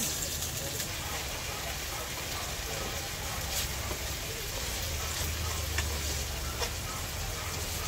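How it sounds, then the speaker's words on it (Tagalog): Tomatoes frying in a pan, a steady dense sizzle that stays constant throughout, with a few faint clicks and scrapes and a low hum underneath. "Lutuin maigi ang kamatis."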